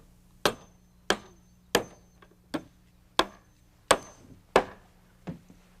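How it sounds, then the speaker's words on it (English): Hammer blows drive nails into a 1-inch wooden strip at the top of a stair frame before the last riser goes on: eight sharp, evenly spaced strikes, each ringing briefly, close and fairly loud with no talk. "nail in a 1-inch strip here at the top before we nail the last riser in place"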